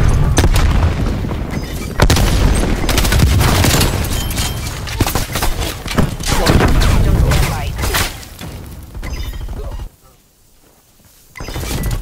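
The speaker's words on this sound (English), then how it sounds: "Throwing frag." Frag grenade blast in a multiplayer first-person shooter match, a loud deep boom rolling under constant gunfire and battle noise, fading briefly to near silence before the fighting resumes, with a voice calling out over the din.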